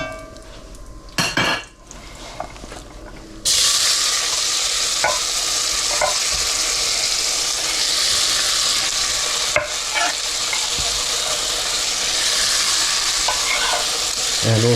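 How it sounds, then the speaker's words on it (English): Onions hitting hot chorizo fat in a pan, a sudden loud sizzle that settles into a steady, close frying hiss with occasional stirring clinks of a utensil. "I'm going to add the onions"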